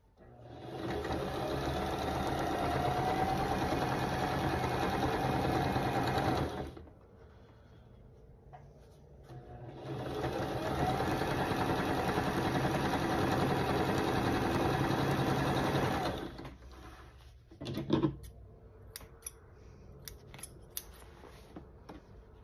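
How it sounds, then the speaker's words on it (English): Sewing machine stitching down the side of a seam on half-square-triangle quilt units, two long steady runs of motor hum and needle chatter with a pause between, then faint handling clicks. "Sew all the way down this side."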